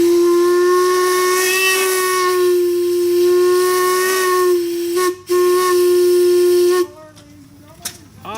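A loud, sustained steam engine whistle blasts for several seconds with a hissing edge at an outdoor steam and antique show, then cuts off, followed by a short burst of escaping steam.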